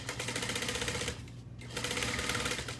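A sewing machine runs steadily, basting two fabric pieces together with a quarter-inch seam, close and continuous, pausing briefly midway before resuming its fast, even stitching hum.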